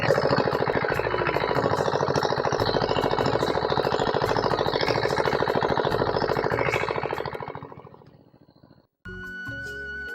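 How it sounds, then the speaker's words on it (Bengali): A shallow irrigation pump engine runs steadily while watering a field in open farmland at dusk, a loud continuous rhythmic chugging that fades out near the end before another brief mechanical tone starts. "শ্যালো মেশিন দিয়ে পানি দেওয়া হচ্ছে"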